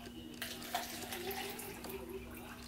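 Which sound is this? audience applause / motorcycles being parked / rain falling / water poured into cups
water poured into cups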